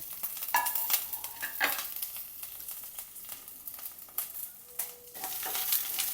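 Urad dal, ginger, green chilli, shallots and curry leaves sautéing in a pan for rava upma, a light crackling sizzle punctuated by irregular spoon scrapes and clinks against the pan, close by.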